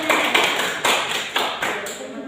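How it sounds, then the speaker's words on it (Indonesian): A classroom of students claps for a classmate, giving a short burst of several loud, uneven claps over a couple of seconds, fairly close, with voices mixed in. "tepuk tangan untuk Adit"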